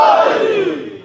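A crowd at a Muharram majlis chanting a religious slogan in unison, one loud sustained shout from many voices that fades over about a second.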